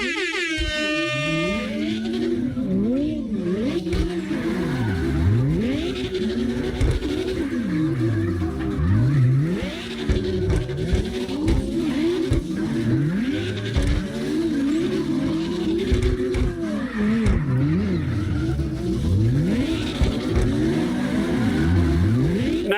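Several cars, including a Lexus LFA, drift together in the CarX Drift Racing Online video game. Their engines rev high and drop over and over in overlapping sweeps, with tire screeches in a busy, continuous mix and no talking.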